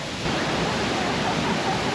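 A waterfall in Ubud, Bali gives off a steady, even rushing roar of falling water, moderately loud and unbroken throughout.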